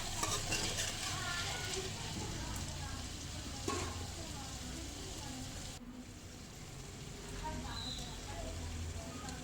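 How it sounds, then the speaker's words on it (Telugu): Potato and tomato curry with added salt being stirred in a pan over a steady sizzling fry, with a louder scrape near the start and a clear utensil clink partway through; nearby voices murmur softly. "అప్పుడైతే మనము సాల్ట్ అయితే వేసేసుకొని కలుపుకోవాలి."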